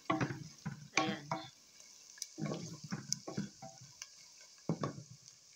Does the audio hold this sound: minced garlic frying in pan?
yes